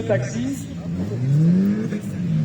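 A Peugeot 406 stock car racing at a French stock car meeting in Princé, its engine droning and rising in pitch as it revs, with a commentator talking over it throughout.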